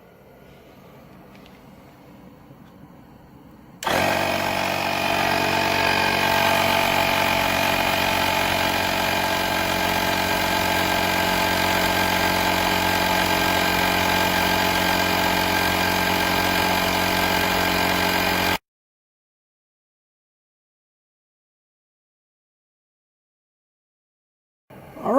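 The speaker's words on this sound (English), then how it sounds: "So let's turn it on, see how long it takes to put 10 or 11 psi in this tire." AstroAI portable air pump inflating a P255/60R15 car tire, a loud steady mechanical drone with a rattling buzz that runs about fifteen seconds before cutting off abruptly.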